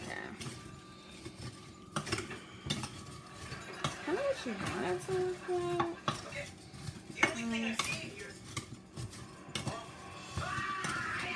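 Spoons and utensils clink and scrape against a bowl as ingredients with cinnamon are stirred, with a person talking over the clatter.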